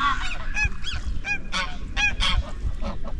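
Geese honk repeatedly nearby, a flurry of loud, overlapping calls over a steady background rumble.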